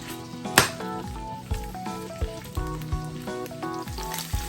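Jalapeno chutney ingredients being stirred in a pan, with soft sizzling and scattered spoon-against-pan clinks and scrapes at close range, plus several brief knocks of cookware.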